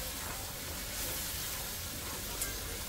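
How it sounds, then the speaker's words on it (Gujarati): Spice paste roasting in very hot oil in a kadai for usal misal, giving a steady, soft sizzle with light stirring noises and a brief clink near the end. "એ મસાલો બી શેકાવા લાગી ગયો છો ફટાફટ, કેમ કે આપણું તેલ ને કઢાઈ ને બધું ગરમ છે"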